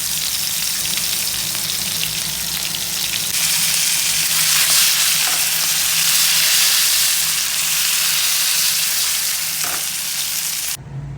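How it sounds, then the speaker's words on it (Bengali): Pomfret fish frying in oil in a pan for a vegetable fish curry, a steady loud sizzle and crackle that holds without a break, close up, with no talk. "मच्छी को अच्छे से फ्राई करेंगे"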